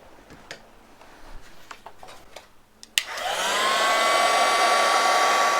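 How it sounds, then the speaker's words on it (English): A few faint ticks and clicks, then a heat gun switches on with a sharp click and settles into a loud, steady blowing whine as it dries paint on a stencil. "I'm going to dry that off now, just with a heat gun."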